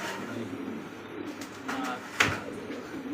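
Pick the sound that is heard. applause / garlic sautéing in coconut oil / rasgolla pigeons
rasgolla pigeons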